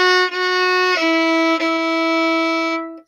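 Bowed string instrument plays a sixteenth-note rhythm, a few sustained bright notes with quick note changes, loud and solo.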